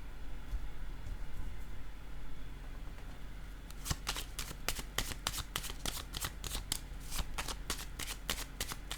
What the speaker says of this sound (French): Attendez un peu, je vais piger une autre carte.